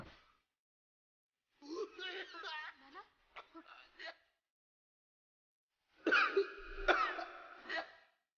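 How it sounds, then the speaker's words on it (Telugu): A man coughs and clears his throat in two separate bursts, close and fairly loud, the first a series of rough hacks and the second a harsher throat-clearing cough after a short quiet gap. "ఏంటో మనిషి ఎప్పుడు దగ్గుతూనే ఉంటాడు"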